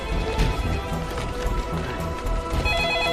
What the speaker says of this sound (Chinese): 小马接电话